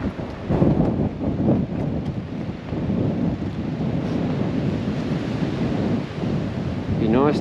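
Strong wind on an alpine ridge line buffets the microphone in a steady, loud roar of low rumbling gusts, with a brief voice near the end.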